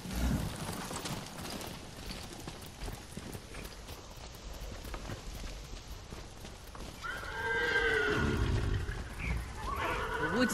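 Horses in Ghost of Tsushima shuffle with soft hoof clops, then one gives a loud, drawn-out neigh with a second whinny close behind, heard clearly near the end over quiet ambience.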